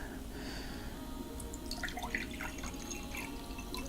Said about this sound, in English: now we're going to pour out the tap water